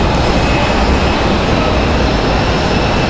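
An Air Canada airliner from Montreal arrives at Raleigh-Durham International, a loud, close, continuous engine roar with a faint high whine, steady throughout and free of speech.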